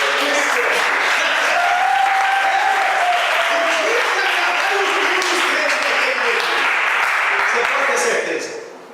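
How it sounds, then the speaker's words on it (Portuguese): Loud, sustained applause from a church conference crowd fills the space for several seconds, with a voice rising over it, before fading out at the end. "salva de palmas para mim."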